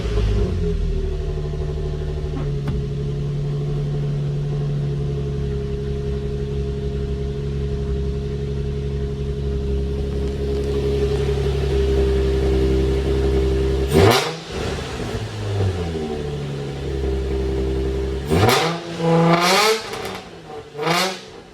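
A Nissan 350Z idles with a deep, steady exhaust burble, then revs sharply several times near the end, each rev rising and snapping back down.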